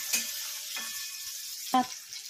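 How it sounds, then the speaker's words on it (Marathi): Onion sautéing in oil in a pan, a soft continuous sizzle punctuated by three sharp spatula scrapes and stirs, fairly quiet and close, no voices. "कांदा आता परतत आलेला आहे छान असा"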